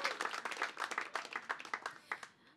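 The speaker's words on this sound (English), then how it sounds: "please give a huge round of applause to my amazing production team here in Princess Live" An audience at an unplugged live show applauds the production team, scattered clapping heard at a distance that thins out toward the end.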